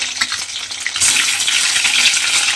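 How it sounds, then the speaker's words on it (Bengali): Eggs frying in hot oil in a pan make a close, steady hiss that swells louder after a brief quieter start, with no talk. "ডিমগুলো প্রথমে আমাকে ভালোভাবে ভেজে নিতে হবে।"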